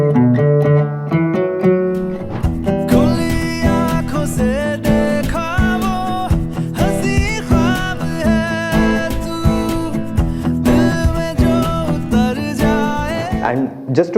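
Guitar picks the bridge melody of a Hindi song, single notes and harmonics played close and clear over about fourteen seconds, with no talking.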